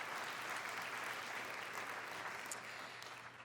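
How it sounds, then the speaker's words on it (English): Quiet, distant-sounding applause fills a hall at the BISQC 2016 chamber music award ceremony, an unbroken soft patter of many hands at an even level. "Give yourselves a round of applause."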